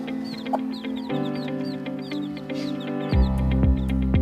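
Day-old native chicks peep in rapid, high chirps, several overlapping close by, over a low hum that grows louder toward the end.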